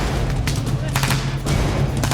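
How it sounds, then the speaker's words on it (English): Army machine guns firing during a military exercise, a loud continuous fusillade of rapid bursts with overlapping booming shots, close and dense throughout. "Our machine gunners keep the enemy suppressed as we advance on them again."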